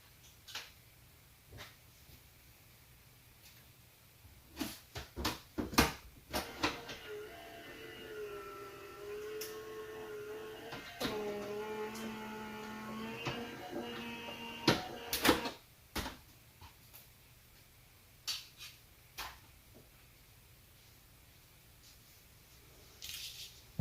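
A die cutting machine makes a pass with a cut-out design from a Temu die set, giving a steady humming drone of several seconds, framed by sharp clicks and clacks of handling before and after.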